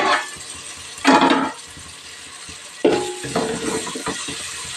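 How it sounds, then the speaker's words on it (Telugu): Mint rice mixture stirred in a pan, with two bursts of scraping and clinking around the one- and three-second marks over a low background sizzle, close and fairly loud. "ఒక్కసారి అయితే కలిపేద్దామండి"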